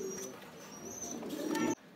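Fancy pigeons coo softly at a pigeon farm, with low throaty murmurs and a faint chirp in the background, fairly quiet and close, cut off abruptly near the end.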